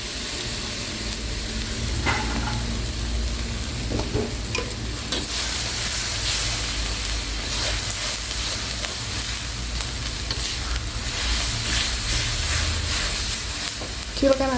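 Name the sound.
blended shrimp-shell spice paste frying in a pan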